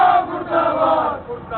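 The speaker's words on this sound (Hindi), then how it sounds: "नारेबाजी की" Congress party workers chant slogans at a political protest, a crowd of voices shouting together in loud, rhythmic bursts.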